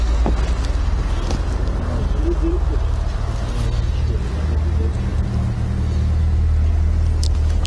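A SsangYong Tivoli 1.6 G Limited car with automatic transmission, its engine giving a steady low hum and road rumble from inside the cabin, fairly loud and continuous.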